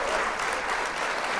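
Canned studio-audience applause sound effect, a steady wash of many hands clapping at once that runs loud and unbroken for the whole moment, with no pauses or single claps standing out.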